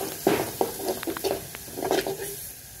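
Drumsticks dropped into a pan of reddened masala and frying, a soft sizzle with stirring scrapes and light clinks of a spoon against the pan, close and moderately loud.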